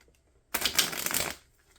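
A deck of tarot cards is shuffled once in a quick riffle, a crisp burst of flapping card edges lasting under a second, close and clear against a quiet room.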